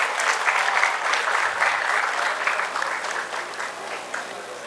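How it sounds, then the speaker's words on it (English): An audience at a distinguished lecture on the Indian space program breaks into steady, sustained applause: dense clapping from many hands for several seconds. "A big round of applause for sir."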